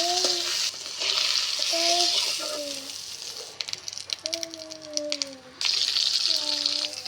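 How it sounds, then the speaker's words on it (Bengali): Beaten salted eggs frying lightly in oil in a wok: a steady bright sizzle that thins out briefly midway, with voices talking over it. "ডিমগুলি ভেঙে একটু লবণ দিয়ে তারপর কড়াইয়ে তেল দিয়ে হালকা করে ভেজে নেব।"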